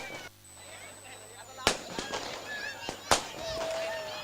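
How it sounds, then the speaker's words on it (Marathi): Fireworks at an outdoor prize ceremony for a residents' premier league: two sharp, loud bangs about a second and a half apart, each with a crackling tail, heard beneath people talking and background chatter. "फटाक्यांची आतषबाजी या ठिकाणी जरूर केली जाते."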